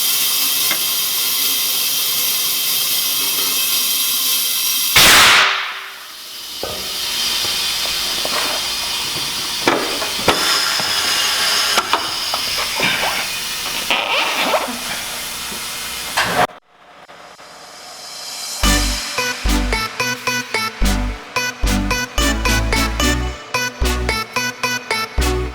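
Compressed air blasts from a tire bead blaster while seating a 195/45R16 tire onto a 16x10 BBS RS wheel, loud hissing bursts with abrupt cutoffs, followed by a series of rapid sharp rhythmic pulses.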